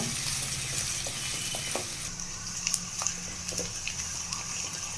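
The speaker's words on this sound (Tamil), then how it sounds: "இது நல்லா வதங்கணுங்க, ஒரு 5 நிமிஷம் ஆகுங்க" A soft, steady sizzle of onions and green chillies sautéing in a pan, with occasional light scrapes and clinks of stirring, quiet and continuous.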